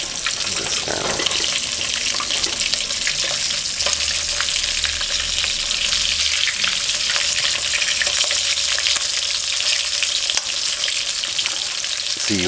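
Steady, loud sizzling of sliced king fish frying in a hot pan, continuous crackle and hiss throughout with a few small clinks.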